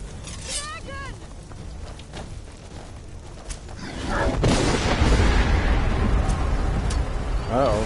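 A dragon breathing fire in Skyrim VR on PlayStation VR: a loud roaring, rushing burst takes over midway and holds steady to the end, following quieter stretches of game noise and voices.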